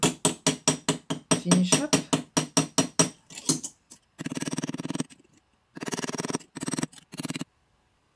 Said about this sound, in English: the one we just did with the riveting hammer